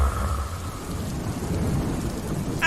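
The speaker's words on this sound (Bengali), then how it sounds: "আয় হায়, বৃষ্টি পড়তেছে।" Steady rain falling in an animated rainy-day scene, with a low rolling thunder rumble underneath and a sharper burst at the very end; no voices.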